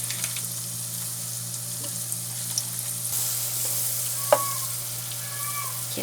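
Butter melts in a hot pan with a steady close hiss and fine crackling sizzle, faint pops scattered throughout and no talking.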